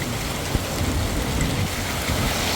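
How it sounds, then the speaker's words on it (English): Steady monsoon rain falling in Arizona, a dense, even hiss of drops with a low rumble underneath and one brief knock, continuous and fairly close throughout. "Monsoon season, I love the rain."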